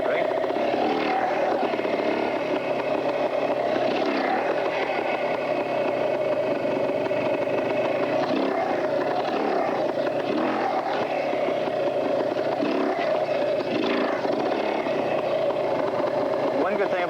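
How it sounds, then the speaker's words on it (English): A trials motorcycle engine drones steadily at low revs, bogging against a dragged rear brake while the clutch slips. The sound is continuous and fairly loud throughout, with someone talking over it. "Hear the motor die down? That's working against that rear brake."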